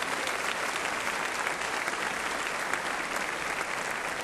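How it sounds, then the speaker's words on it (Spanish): A church congregation claps in praise during a sermon, a dense, continuous wash of applause that holds steady and fairly loud from start to finish, with no voices rising above it. "Dele palmas al Señor."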